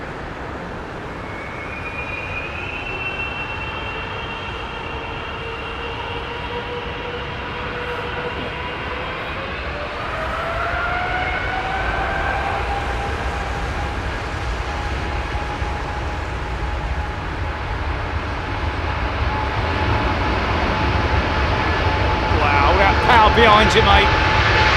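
A Qatar Airways jet at London Heathrow spools up its engines: a loud, steady roar with a rising whine that climbs and swells over the whole stretch, with a brief spoken remark partway through.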